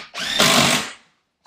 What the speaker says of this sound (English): with our trusty impact drill